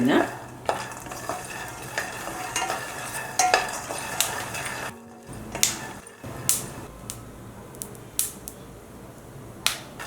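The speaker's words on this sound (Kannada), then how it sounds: "ಲೋ ಫ್ಲೇಮಲ್ಲೇ ನಾನು ಹುರಿತಾ ಇರೋದು ನೋಡಿ ಶಬ್ದ ಕೇಳ್ತಾ ಇದೆ ಇವಾಗ ಚಟಪಟ ಅಂತ" Peanuts roast in a pan over a low flame, popping and crackling in sharp, irregular bursts over a soft background sizzle, with a few scraping stirs, close and fairly quiet.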